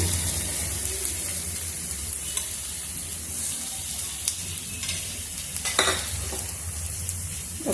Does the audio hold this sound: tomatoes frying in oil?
yes